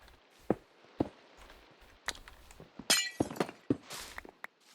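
Glass blocks being broken in Minecraft: quiet clicks and thuds, then two crisp, bright shattering bursts close together, each followed by a faint tinkle.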